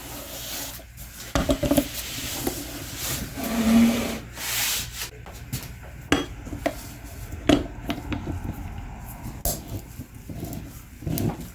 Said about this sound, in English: And let's open this filter up.